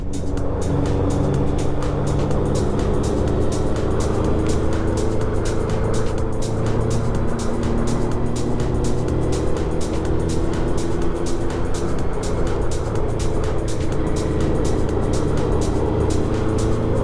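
Kawasaki Z900 motorcycle engine and exhaust recorded from inside the rider's helmet on an autumn ride, a loud, steady, throaty drone with wind rush running unbroken throughout.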